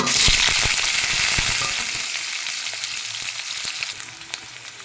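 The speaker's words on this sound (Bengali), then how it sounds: "কড়াইতে দিয়ে দিলাম পরিমাণ মতো তেল আর 2-3টা শুকনো লঙ্কা আর কিছুটা পাঁচফোড়ন" Dried red chillies and panch phoron spluttering in hot oil in a wok, a loud steady sizzle with crackling pops that eases slightly toward the end, no voices.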